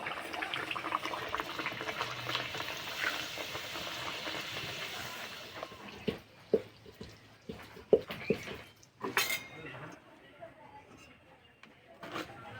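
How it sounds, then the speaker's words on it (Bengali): Luchi, wheat-flour puris, frying in hot oil for a festive meal, a steady broadband bubbling hiss that thins after six seconds into sparser crackles and pops, close and moderately loud. "এইভাবে লুচি ভাজলে খুব তাড়াতাড়ি ভাজা হয়ে যায়"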